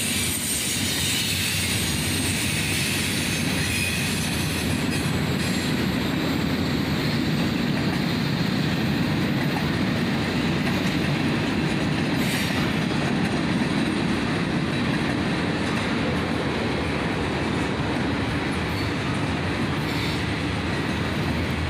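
A CSX SD40-2 and Norfolk Southern GP33 ECO freight train with a slug rolls past close by, a steady loud rumble and rail noise throughout, carrying a long cut of cars including tankers, with faint wheel squeal.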